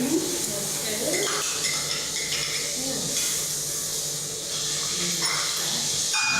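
Margarine dropped into a hot pan on the stove hisses and sizzles in a steady, close wash of frying noise, with a voice speaking faintly underneath.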